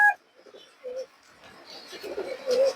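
Soft, low pigeon coos, a short one near the start and another at the end, with light rustling and faint voices between them.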